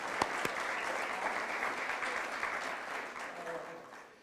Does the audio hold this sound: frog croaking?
no